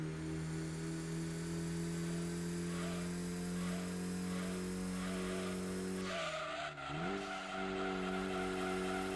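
A race car on Deep Forest Raceway in Gran Turismo drives with a loud, sustained engine whine while its tires squeal and skid through a drifting corner, the engine note dipping briefly before recovering.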